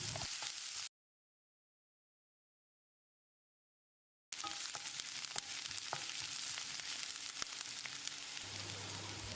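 Chopped onion with crushed ginger and curry leaves sautéing in a pan for leftover idli, a steady close sizzle with crackles that cuts out briefly before returning.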